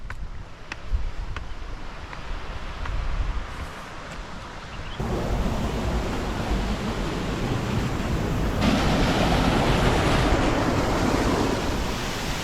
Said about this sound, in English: I can hear already the waterfall.